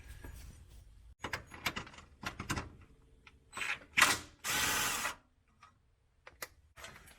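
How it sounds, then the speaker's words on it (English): A crossmember bolt comes off a 2011 Subaru with a power tool, heard as close mechanical clatter and ratcheting bursts, then a sustained loud whir, with scattered clicks afterward and no talk. "So the first bolt you have to take off is the side of the crossmember here, the front portion."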